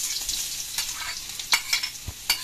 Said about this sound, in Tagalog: Magigisa na po si mama ng ricado.